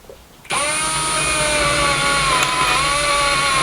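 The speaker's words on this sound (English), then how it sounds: "So let's carefully drill these now." A power drill whirs to life after a brief pause and runs at a steady, high-pitched whine drilling 5 mm holes, close and loud.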